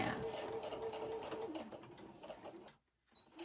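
Sewing machine running a straight stitch in polyester thread, a rapid close mechanical whir that holds steady and then halts briefly near the end before resuming faintly.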